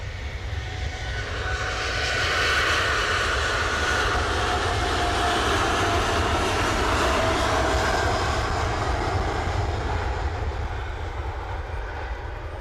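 A Boeing 787 Dreamliner jet at Manchester Airport gives off a broad, steady engine roar that swells in the middle and eases slightly toward the end, with no talk over it.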